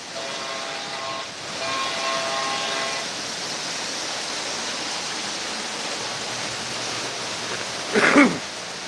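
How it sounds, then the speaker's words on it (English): A model railroad train runs on a layout, giving a steady rolling rumble with faint whistle-like tones early on and a brief louder clatter near the end, without speech. "Choo-choo, we got a choo-choo, Mr. J."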